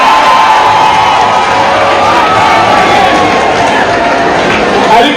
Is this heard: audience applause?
yes